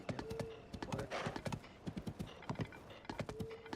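Horse hooves clip-clop steadily in the video game Tears of the Kingdom, a quick rhythmic trot heard up close with a brief whinny-like call and faint game ambience.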